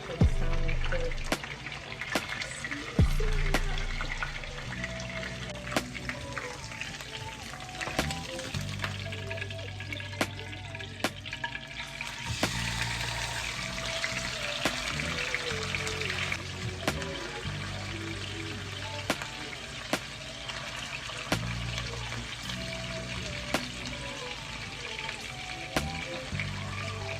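Jerk salmon sautéing in a pan: a continuous close sizzle and crackle runs throughout, with scattered clicks and utensil clatter.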